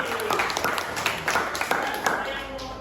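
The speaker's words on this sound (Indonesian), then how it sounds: "kita kasih aplaus untuk kelompok Ali" Classroom applause for a student group, a short spell of many hands clapping together, moderately loud and fairly even, with a voice talking over it.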